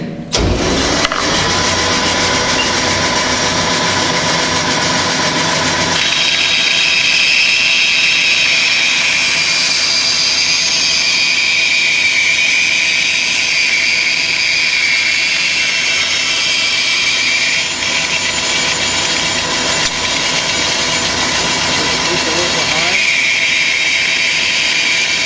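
Bandsaw switched on in a school workshop with the guard lowered over the fence, its motor spinning up into a steady loud whine with a bright blade hum that continues unbroken throughout.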